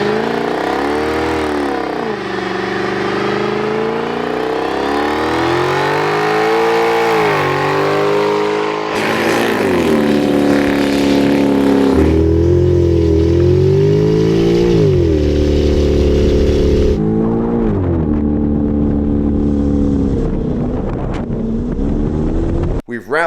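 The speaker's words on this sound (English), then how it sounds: "We've done plentiful burnouts." A Genesis 5.0 R-Spec roars through repeated rev sweeps during burnouts, engine pitch rising and falling in long surges with heavy wind buffeting on the microphone, loud and close.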